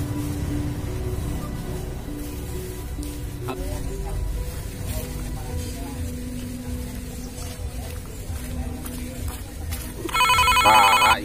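A telephone rings near the end as a bright, buzzing electronic trill, rising over a stretch of talk and background noise.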